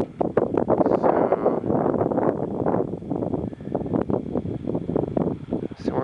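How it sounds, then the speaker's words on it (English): Wind gusts in a canyon roar close against the microphone in a loud, uneven buffeting that rises and falls throughout. "Just as the wind is starting to die down."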